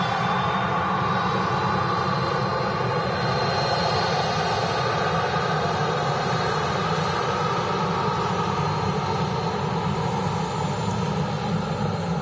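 Virgin Atlantic Airbus A330 jet taxiing at Manchester Airport, a steady broadband engine roar with a low rumble and faint high whine, constant and moderately loud throughout with no talking.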